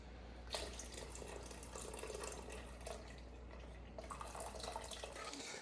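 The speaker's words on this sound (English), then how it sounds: "I can save the juice from the pineapple and add it to the cider, to the spiced cider." Pineapple juice being poured into spiced apple cider gives a steady, soft splashing trickle of liquid that runs continuously and fairly faint, with no talking.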